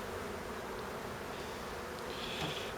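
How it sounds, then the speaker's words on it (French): A dense, continuous buzz of many honey bees swarming close by a hive, steady and unbroken with no voices. "Il y a pas mal d'abeilles pour autant."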